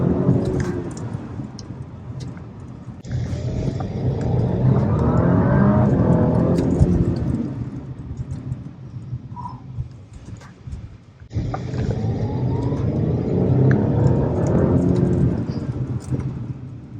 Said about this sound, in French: Vous entendez un petit peu le moteur? Ça fait du bruit.